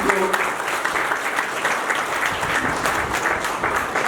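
Audience in a hall applauding at a foundation day celebration, a dense, steady clatter of many hands clapping for about four seconds at close range, with no voices over it.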